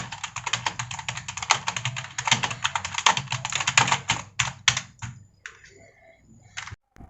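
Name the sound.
keys of a gaming keyboard being typed on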